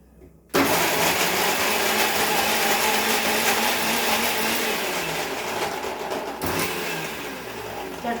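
A mixer grinder roars to life and whirs steadily while coarsely grinding peeled green chillies, garlic and onion, a loud continuous motor drone with a brief dip near the end.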